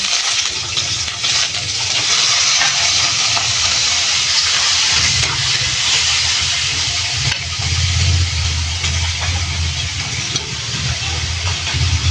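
Isaw, chicken intestines softened in a pressure cooker and soaked in soy sauce, frying in a pan with a loud, continuous hiss and sizzle that swells and crackles, with no talking.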